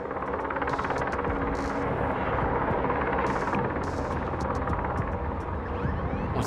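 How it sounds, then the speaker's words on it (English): Helicopter from the Quantum Break video game hovering nearby, a steady loud rotor and engine drone running through the whole stretch, with scattered higher clanks and effects over it. "What's their chopper waiting for?"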